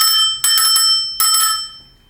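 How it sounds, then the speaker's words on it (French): Two quick bright rings from the bell on the left handlebar of a Ninebot Max G30 electric scooter, close and loud, each a short trill of metallic pings that fades within a second. "On a une sonnette qui est passée sur la poignée gauche"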